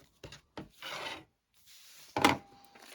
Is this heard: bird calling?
no